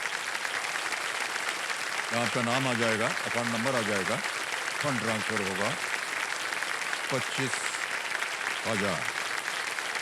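Studio audience applause on the quiz show Kaun Banega Crorepati, a constant wash of clapping that runs under a host's speech for the whole stretch.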